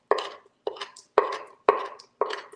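A knife chops stuffed mushroom filling on a cutting board, five crisp, evenly spaced chops ringing out close and clear with no talk.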